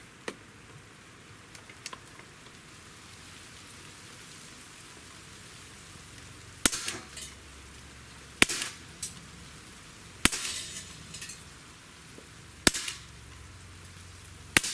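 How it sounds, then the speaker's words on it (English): HellBoy .177 CO2 BB tactical air rifle firing outdoors, five sharp pops spaced about two seconds apart over a quiet, faintly hissing background, with a couple of small clicks earlier. "let's just go shoot a few shots, maybe 5, 6 shots, and see how well we group"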